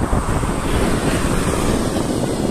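Steady, loud wind noise rushes over the microphone of a bicycle rider on a long early-morning road ride, a constant broadband roar with no voices.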